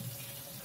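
Water gushes steadily from a tap into a container for a backyard chicken flock gapeworm treatment, a brief, even rushing fill with no speech.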